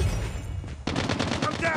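A sentry gun firing in a multiplayer shooter game, sounding as a rapid burst of close, loud automatic gunfire that starts abruptly partway through over a dense game soundscape.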